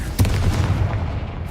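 A Confringo blasting curse detonates in the Hogwarts Legacy video game, a single loud boom near the start followed by a rumbling tail of smaller bursts.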